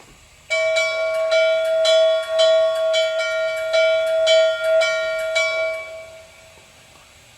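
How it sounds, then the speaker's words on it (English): Bell of an HO scale Norfolk & Western Class J 611 model locomotive, a bright electronic clang ringing steadily and repeatedly for about six seconds, clear and alone before stopping. "So next we're going to check out the bell."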